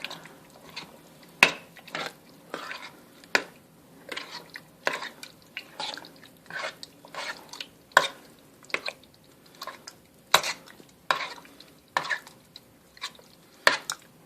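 A thick chili with tomato paste being stirred together, a run of wet, squishy, irregular scrapes and thick mixing sounds close by for several seconds, with no talking.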